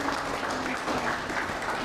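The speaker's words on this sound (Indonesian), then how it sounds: "Berikan tepuk tangan teman-teman." Steady, dense applause from a crowd at the installation ceremony of the Indonesian Christian Student Movement (GMKI) chairman, filling the room evenly without a break.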